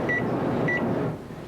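A smart microwave oven beeps twice as it starts cooking, then hums with a steady low running drone and a faint clatter.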